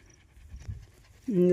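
Mother dog that whelped a day earlier, panting near her newborn puppies whose eyes are still closed: quick, soft, close breaths, followed at the end by a voice.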